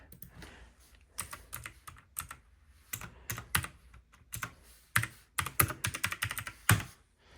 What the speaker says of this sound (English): So I type that in.